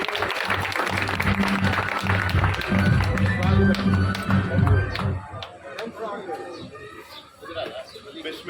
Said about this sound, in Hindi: इनकी आमद पर भरपूर तालियों में इस्तकबाल कीजिए।